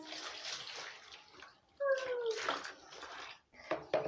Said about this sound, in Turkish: Hadi o zaman Nilo'yu durulayalım artık